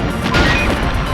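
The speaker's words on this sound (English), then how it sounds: "Thunderfist does these rolling somersaults to smash everything to bits." Thunderfist from the Nintendo 64 game Blast Corps smashes through buildings: a loud, close crashing burst of breaking debris that fills the moment with dense impact noise.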